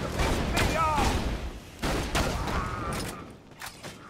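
Repeated gunfire in Borderlands 2 comes in bursts of sharp cracks with mechanical clanks and whines between them, loud and close, with voices talking over some of it.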